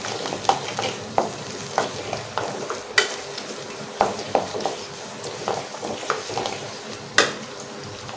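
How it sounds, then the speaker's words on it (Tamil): Garlic sautés in a pan for a Tamil garlic kulambu, with a steady sizzle under repeated scraping and stirring strokes from a utensil, close and moderately loud, and no talking. "ஒரு 2 நிமிஷம் போல் இதை பூண்டை வதக்கிக்கோங்க."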